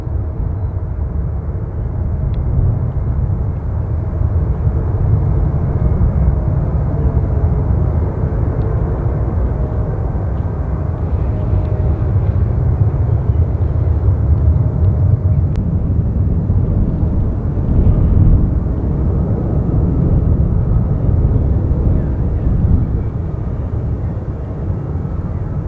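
A 22-year-old Boeing 777-200 airliner near San Francisco airport, a loud sustained low jet engine roar that swells slightly and holds steady throughout.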